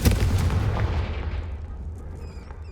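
A Confringo fire spell explodes in the video game Hogwarts Legacy, a loud low boom right at the start that rolls off into a fading rumble over about three seconds.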